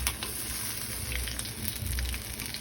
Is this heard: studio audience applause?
no